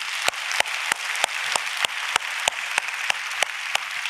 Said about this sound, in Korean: 우리 아버지들을 위해서 한번 격려의 박수